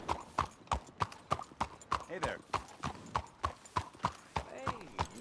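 Horse hooves clip-clop at a steady walking rhythm in Red Dead Redemption 2, close and clear, with someone talking over the hoofbeats throughout.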